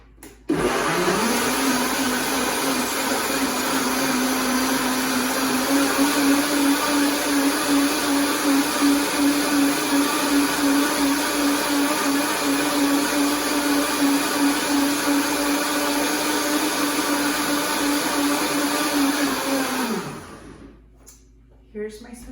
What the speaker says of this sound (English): Okay, let's blend this.